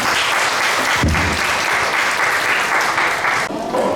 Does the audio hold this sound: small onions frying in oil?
no